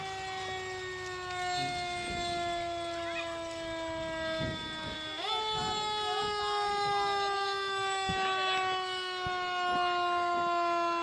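A fire truck siren from the Crothersville Fire Department's Engine 2 wails steadily during a Christmas parade in the City of Steele, its tone holding and then sliding upward midway, loud and continuous.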